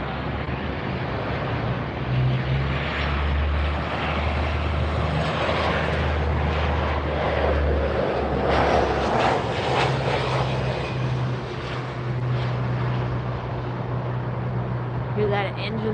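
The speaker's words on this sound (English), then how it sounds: "Hear that engine sputter?" A large airliner's engines roar nearby at Miami Airport in light rain, a broad, continuous rumble with uneven surges, while someone talks over it and wind buffets the microphone.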